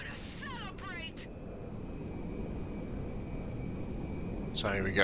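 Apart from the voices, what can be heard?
airplane engine on approach in video game GTA Online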